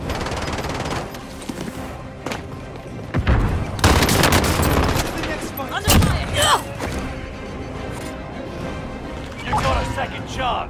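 Gunfire in the Call of Duty: Modern Warfare video game, scattered shots and bursts with heavy booms and thuds, some loud and close, others distant, mixed with a game voice speaking over the action.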